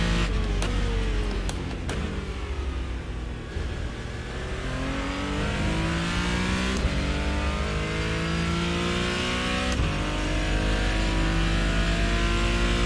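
Race car engine in a racing simulator lapping a circuit, revving and accelerating steadily with rising and falling gear-change sweeps, loud and continuous throughout with no talking.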